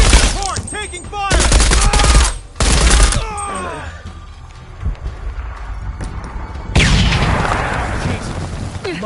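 Loud bursts of gunfire rip through a combat scene in the video game Shadow of the Tomb Raider, with rapid volleys, echoing shots and a sustained barrage toward the end.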